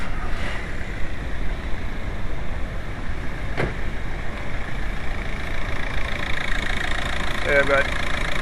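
A VW A5 BRM TDI diesel engine idles with a steady low rumble and faint knock, the car having a no-power, black-smoke-under-load fault; a brief sharp click cuts in midway and a short chirp near the end.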